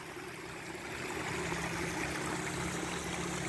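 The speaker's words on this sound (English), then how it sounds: "Top of a waterfall." Rain runoff drains over the lip of a small waterfall atop Table Rock in Southern Oregon, a steady broadband rushing and trickling of water heard close and continuous throughout, with no voices.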